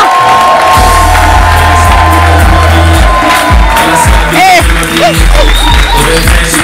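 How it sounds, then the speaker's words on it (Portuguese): A lively crowd cheers, whoops and claps for a barman at a busy venue, loud and continuous, with booming low bass music pulsing underneath and shouts rising over the noise. "Eu quero aplausos e barulhos para o Sal Angola!"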